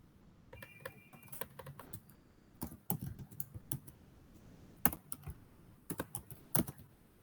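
JavaScript code being typed on a computer keyboard, with quick bursts of close key clicks separated by brief pauses and no one speaking.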